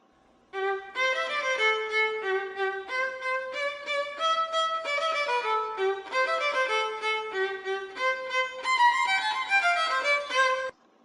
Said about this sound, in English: that is the violin